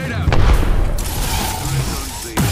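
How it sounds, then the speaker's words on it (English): Gunfire aimed at the player in Apex Legends, a burst of sharp, booming shots up close in the first moments, followed by lingering game sounds and whooshing effects. "They're firing on me."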